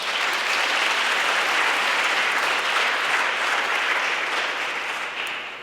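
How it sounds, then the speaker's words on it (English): Sustained audience applause fills the hall at the European Youth Charlemagne Prize ceremony in Aachen, steady and dense throughout before easing slightly at the end, with no talking over it. "A round of applause."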